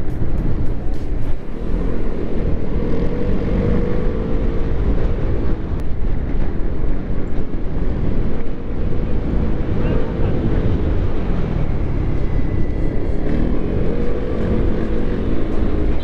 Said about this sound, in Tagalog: Sarap mag-ride talaga dito.